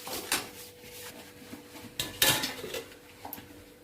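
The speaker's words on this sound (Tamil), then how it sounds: "குழம்பு கொதிக்கிட்டும், மூடி வைக்கலாம்." Metal kitchenware clanks and clatters in a few separate knocks, including a sharp metallic clink as a lid is set onto a pot of simmering egg gravy, fairly close and quiet.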